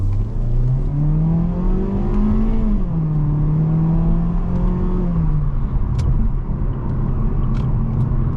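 A Mazda CX-3 accelerating hard, its engine note climbing steadily in pitch with a smooth, continuous rumble heard close up, then easing and settling near the end, with no talk over it.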